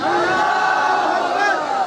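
Crowd at a religious gathering shouting a loud, sustained unison response to the Nara-e-Takbeer slogan, a single drawn-out chorus of many voices.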